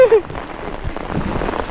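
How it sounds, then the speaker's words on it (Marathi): Heavy monsoon rain pours down in the Konkan countryside, a dense steady hiss of drops on surfaces, heard close, with voices speaking over it. "पाऊस जोरदार लाग लाग मोठो"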